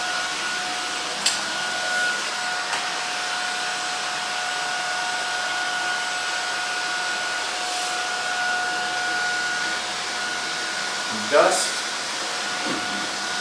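Shark Vertex cordless vacuum cleaner running steadily with a continuous whine and a couple of steady tones, near and fairly loud for the whole stretch, with small clicks and a brief handling bump late; a voice speaks briefly over it.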